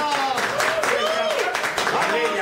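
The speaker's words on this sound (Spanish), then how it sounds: "Fuerte aplauso." Studio audience applauding during a live football-themed television show broadcast from Lima, Peru: a dense, steady wash of clapping that fills the whole stretch, with a presenter's voice talking over it.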